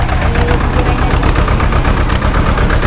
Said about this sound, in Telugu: ఇదిగోండి చూడండి, ఇప్పుడే ట్రాక్టర్ వచ్చిందనమాట.